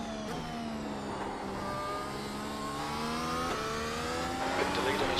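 Race car engine in iRacing, circling the Mexican GP circuit Autódromo Hermanos Rodríguez with wheel damage and oversteer, droning steadily with shifting revs and loud throughout, with a voice talking over it.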